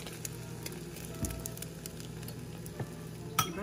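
Egg paratha fries in ghee in a pan with a steady, soft sizzle. A few light scrapes and taps of a utensil sit on top of it, close and fairly quiet with no talking.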